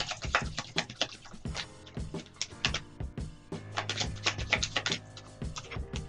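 A deck of tarot cards is shuffled by hand at close range, giving rapid irregular riffling and snapping clicks in bursts with short pauses between them.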